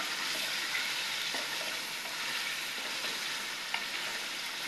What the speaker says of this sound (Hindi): मिक्स करने के बाद लहसुन अदरक 2 खाने के चम्मच शामिल कर देंगे, और उसको 1 से 2 मिनट भूनेंगे लहसुन अदरक में।